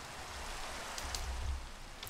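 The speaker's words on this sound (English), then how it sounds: "I need the rain to stop." Steady rain hissing in the Minecraft Forgecraft modpack world, a soft even wash of falling drops with a faint low rumble underneath and no voices.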